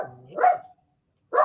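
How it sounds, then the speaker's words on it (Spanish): A dog barks twice, close and fairly loud, with a short pause between the two barks and no talking. "El perrito."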